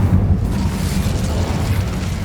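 Incendio fire spell cast in Hogwarts Legacy, a loud low roaring burst like a whooshing blast of flame that rumbles steadily through the whole moment, with no voices.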